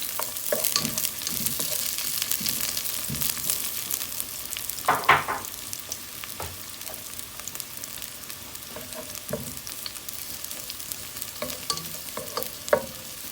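Garlic sautéing in butter over medium heat for spicy buttered garlic shrimp, a steady close sizzle with occasional stirring scrapes and one brief louder burst midway, no talking.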